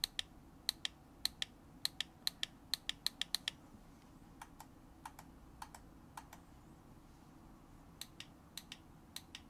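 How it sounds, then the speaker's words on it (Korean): An older Xbox One controller's buttons click sharply, first in a fast run of close-up presses, then in sparser, slightly softer clicks spread over several seconds against a quiet background. "구형 엑스박스 1 소리입니다."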